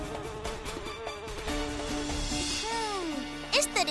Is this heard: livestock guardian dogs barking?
no